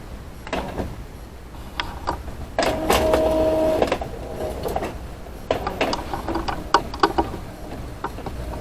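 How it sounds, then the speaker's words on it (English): A printer works through a job printing on sublimation paper, with intermittent mechanical clicks, a sustained whirring feed pass, then more clatters and carriage movements, close by. "my sublimation paper and the printer"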